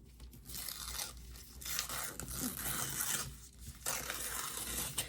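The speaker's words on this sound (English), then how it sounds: "Oh, I keep tearing it the wrong way." Paper from a craft deco kit being torn by hand for a DIY fan project, a few rough ripping and crinkling bursts spread across the stretch, close and moderately loud with no talking.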